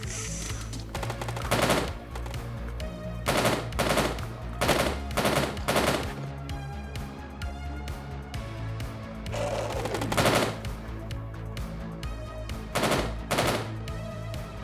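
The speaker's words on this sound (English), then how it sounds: "the ricochet bullets are nasty" Rapid bursts of gunfire with ricocheting bullets in the s&box game, loud and close, repeating in short volleys with brief gaps across the whole stretch.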